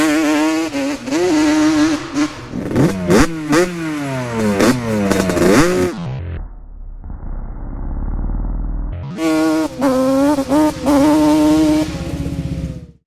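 A Yamaha Banshee two-stroke quad engine screams close and loud through repeated rising revs, drops to a low rumbling idle for a few seconds, then climbs back into high, wailing blips of the throttle.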